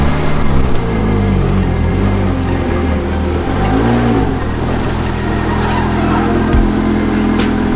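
A Porsche 987 engine rumbles steadily as the car is driven in, a close, continuous hum with slight rises in revs.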